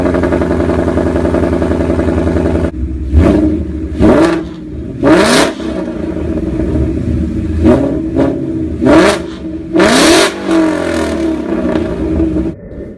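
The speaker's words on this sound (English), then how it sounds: "here's a quick cold start for the Solar Performance exhaust." A supercharged 2015+ Ford Mustang fitted with a Solar Performance J-hook exhaust cold-starts with a loud flare, then several sharp revving bursts rise over a steady, rumbling idle, heard close and with no talk.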